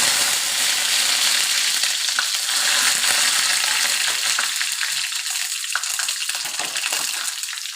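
Curry leaves sizzle loudly in hot oil for a tempering, a dense continuous hiss with scattered crackles and spits. The sound stays close and steady with no voices over it.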